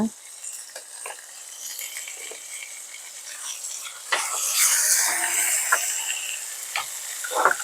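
Garlic paste fries in a pan for an okra and mustard curry, a soft hiss of sizzling with occasional light clicks and stirring taps, close and moderately quiet, swelling briefly midway.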